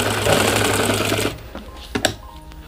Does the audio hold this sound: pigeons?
no